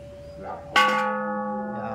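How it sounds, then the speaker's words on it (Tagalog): A temple bell at a Bangkok tourist attraction is struck once, loud and close, its deep ringing tone sustaining and slowly decaying for more than a second. "Bell natin. Bell natin guys."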